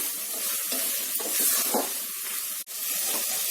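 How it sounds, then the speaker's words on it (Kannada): Chicken mixed with masala fries in a pan over a medium flame for a biryani, a close, steady hiss and sizzle that lasts throughout. A single sharp clack cuts in near the end. "ಮೀಡಿಯಂ ಫ್ಲೇಮ್ನಲ್ಲಿ 1-2 ನಿಮಿಷ ಫ್ರೈ ಮಾಡ್ಕೊಳ್ಳಿ."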